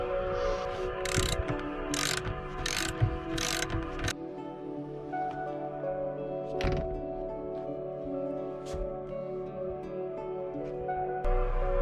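A bolt on the rear seat of a BMW E39 Touring wagon tightened with a ratchet, several short bursts of rapid clicking early on, then quieter mechanical handling and a single click near the end, close up with no talk.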